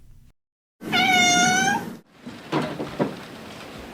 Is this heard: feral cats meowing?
yes